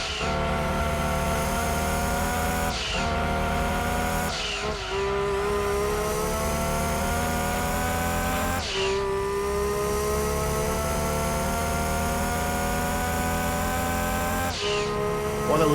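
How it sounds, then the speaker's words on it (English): A 690 brake horsepower race car engine in Gran Turismo 2 revs hard and continuously, loud and close, climbing through the gears with abrupt shift breaks and a rising whine under the roar. "an engine that produces 690 brake horsepower"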